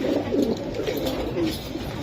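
Pigeons, including Giribaj and silver Giribaj breeds, cooing close by in soft low throaty calls that overlap steadily over a faint background hum.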